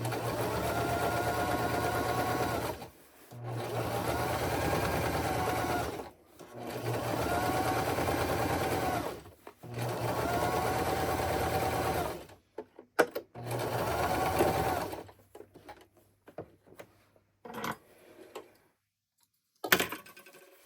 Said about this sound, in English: And I like to do a little back stitch just to secure the stitches for now.